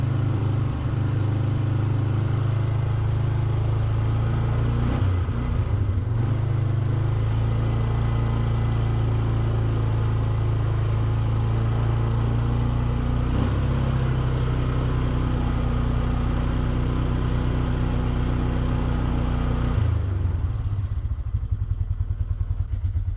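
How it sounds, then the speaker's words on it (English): A quad ATV engine runs in a rough, clattery cold idle for a long stretch, loud and close, with a brief stumble midway before the engine note fades out near the end. "The cranky cold start coming from Jessa."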